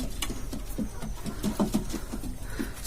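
Pigeons coo in low, throaty, repeated calls with soft fluttering and shuffling around them, fairly close and steady throughout.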